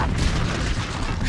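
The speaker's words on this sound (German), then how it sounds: "Schön, wie sie explodiert." Loud, rumbling video-game explosion in Deus Ex, a dense burst that fills the short moment with no pause.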